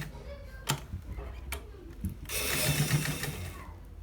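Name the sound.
sewing machine stitching a shawl collar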